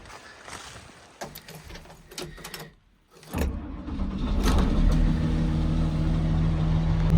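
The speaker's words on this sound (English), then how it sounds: "this excavator runs, the engine of it runs so good. Fired up immediately." A diesel excavator engine idles, at first faint and broken by brief clatter, then swelling to a steady, loud low rumble that holds to the end.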